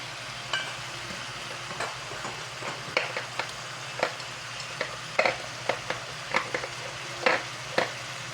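Food sizzles in olive oil in a pan, a steady crackling hiss with frequent sharp pops and spits, close and fairly quiet with no talking.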